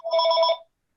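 A telephone rings once in a committee meeting room, a single steady electronic ring lasting about half a second and then cutting to silence.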